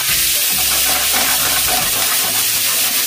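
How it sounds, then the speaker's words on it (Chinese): Beef sizzles loudly in a hot pan with browned garlic and ginger, part of a Cantonese stir-fry with Chinese yam; a steady, close crackling hiss runs throughout with no talk. "攞落去煎下佢先"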